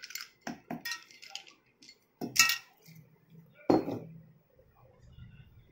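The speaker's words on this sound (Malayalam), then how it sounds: "Ice cube." Ice cubes are dropped into a container for lime juice, making a series of sharp, close clinks and clatters in irregular bursts against a quiet background.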